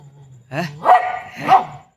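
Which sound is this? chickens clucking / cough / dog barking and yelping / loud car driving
dog barking and yelping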